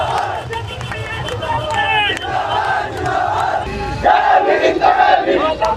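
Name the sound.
large crowd gathered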